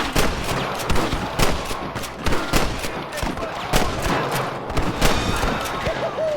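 Gunfire in the video game Red Dead Redemption, a rapid series of loud sharp shots in irregular bursts, close and dominant, with shouting voices around it.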